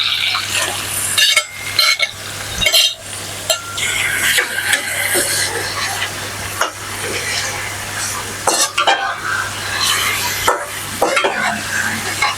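Camel liver frying in a hot pan, a continuous bright sizzle broken by repeated scraping and stirring knocks from a utensil, all close and fairly loud.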